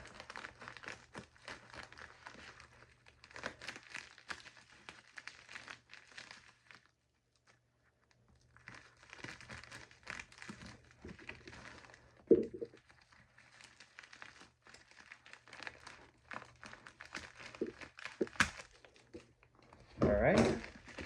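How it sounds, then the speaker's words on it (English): Cardboard box of a Kidde 1275 smoke alarm being cut open and unpacked, with crinkling, rustling packaging and scraping handled up close, scattered bursts and a louder tearing rip near the end, plus a pause in the middle and occasional talk. "let's go ahead and cut this open and see what we got"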